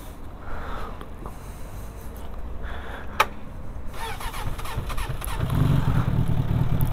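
A Suzuki Bandit 600 motorcycle engine starting after refuelling on the roadside, a cranking attempt followed by a sharp click, then the engine catching and settling into a louder steady idle.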